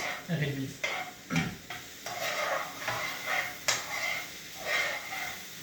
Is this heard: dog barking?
no